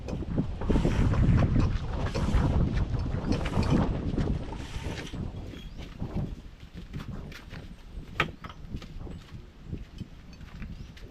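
Strong wind gusts buffet the microphone by the sea, loud rumbling blasts at first that ease into a lighter, steady blow with scattered knocks and clatter.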